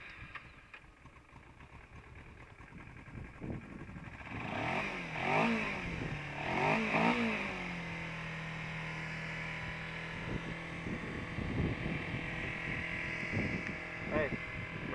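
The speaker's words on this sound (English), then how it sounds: "this is now an after sound of it without the snorkel on." A 2012 Kawasaki Ninja 250R with its intake snorkel removed idles, then is blipped in two or three quick rising-and-falling revs before settling back to a steady idle, close up, with people talking over it.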